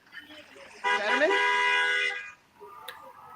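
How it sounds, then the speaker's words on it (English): A single car horn gives one sustained honk of about a second and a half, at moderate distance, with faint voices before and after it. "Someone honked the horn."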